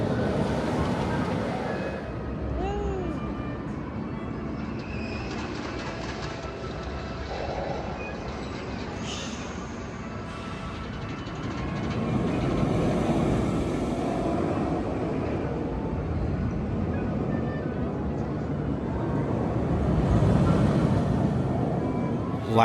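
Verbolten roller coaster test cars, three of them, run at Busch Gardens Williamsburg. They make a distant, broad rumbling roar that swells twice over steady outdoor background noise.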